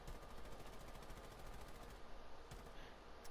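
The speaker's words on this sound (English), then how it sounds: "So that's Buck's recoil." Rapid bursts of automatic gunfire from Buck's weapon in a video game, a dense steady stream of shots with a brief break, heard alone with no talking.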